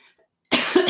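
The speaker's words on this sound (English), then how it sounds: "I'm going to cough like you wouldn't believe" A single sharp, close cough from a person, short and forceful, following a brief near-silence.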